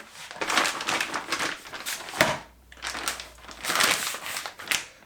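Plastic crinkles and rustles in repeated bursts as meat is pushed into a plastic bag close by, with a brief thump midway.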